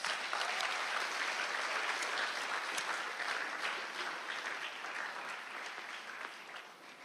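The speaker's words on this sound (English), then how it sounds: "Let's give the Lord a round of applause." A church congregation gives a round of applause, a steady wash of clapping with no talk that slowly fades toward the end.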